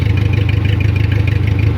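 A car engine idles steadily with a suspected head gasket leak letting coolant into the exhaust manifold, giving a loud, continuous low rumble with a faint rhythmic pulse and no talking.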